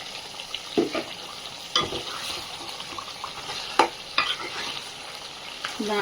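Mutton curry with chili and coriander powder is stirred in a pan, a soft continuous simmer broken by intermittent spoon scrapes and clacks at close range.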